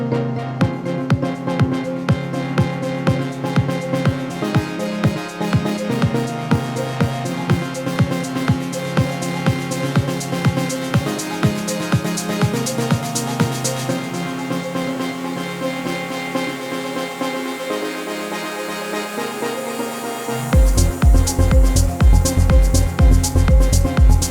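A steady melodic house beat of kick and hi-hat over a synth pad, with a rapid snare roll building tension before a heavier, denser drop section bursts in near the end.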